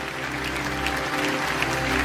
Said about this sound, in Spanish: que se escuche de verdad ese aplauso aquí en casa